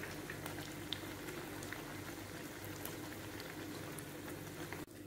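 Ulundu vadai, a lentil fritter, bubbling in hot oil with a steady dense crackle and fizz, close and moderately quiet, continuous for about five seconds before a brief dip at the end.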